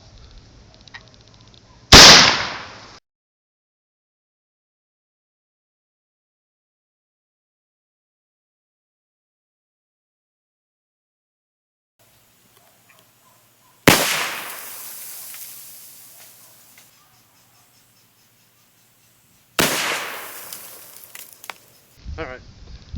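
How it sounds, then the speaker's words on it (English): A shotgun loaded with Winchester PDX slugs fires three loud, sharp blasts, widely spaced, each dying away quickly into near silence, with a little handling noise between shots. "Next round, the Winchester PDX slugs."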